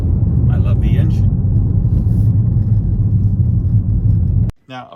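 A 2023 Toyota GR Corolla's 1.6-litre three-cylinder engine rumbles loud and steady from inside the car while driving, a deep continuous drone that cuts off abruptly near the end.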